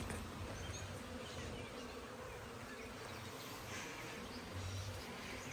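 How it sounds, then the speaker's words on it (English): Honeybees buzz steadily all around a beekeeper outdoors, a dense, continuous hum that stays close and fairly loud throughout, with no talking. "Look at all those bees on her."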